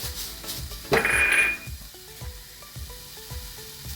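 Grated carrot hits a hot pan with a short, bright sizzle about a second in, fading after half a second, while faint rhythmic tones tick along quietly behind it.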